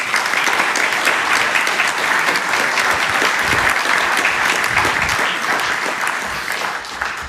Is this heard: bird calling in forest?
no